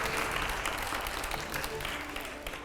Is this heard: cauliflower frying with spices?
no